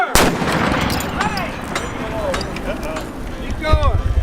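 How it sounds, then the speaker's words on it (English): A cannon fires once with a sharp, loud boom at the very start. Excited voices and shouting follow in the open air. "Gun number 7, prepare to fire!"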